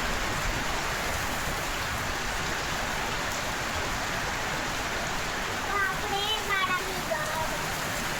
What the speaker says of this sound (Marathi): किती पाऊस येतोय आमच्याकडे